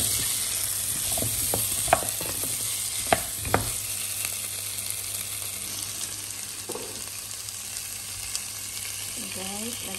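Squash sautéing in a pan with tomato, onion, garlic and ginger, a steady broad sizzle throughout with a few sharp utensil knocks early on and occasional stirring scrapes, close and moderately loud.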